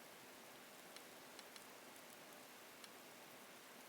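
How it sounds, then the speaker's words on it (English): Soft, steady rainfall in the survival game Sapiens, a fine even hiss with scattered faint droplet ticks, quiet and with no voices. "It's starting to rain"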